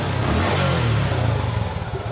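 Suzuki Gixxer 155 motorcycle engine running after restoration, a steady close-up rumble with a slight revving rise, loud and continuous with no talking.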